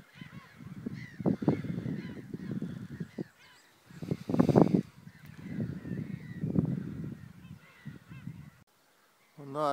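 A flock of gulls calls loudly and repeatedly over a landfill, harsh overlapping cries in clustered bursts with brief lulls, fairly close.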